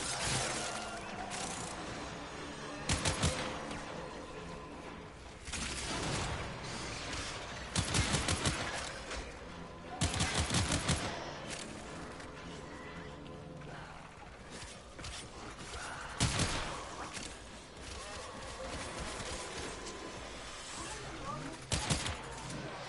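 Gunfire in the video game Warframe, repeated bursts of rapid shots and mechanical clatter over a dense game soundscape, with a player talking throughout.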